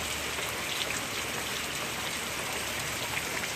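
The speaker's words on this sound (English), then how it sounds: "Sorry guys about the rain, but hey, it's raining." Steady rain falling outdoors at night on a path, a dense even hiss of drops hitting surfaces with no break, close and fairly loud throughout.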